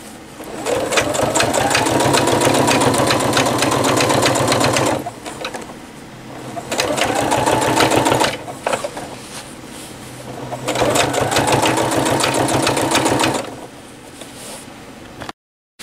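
Sewing machine stitching straight down the edge of a PUL fabric bag with a front pocket, running in three long steady bursts of rapid mechanical whirring and ticking separated by brief pauses, close and clear.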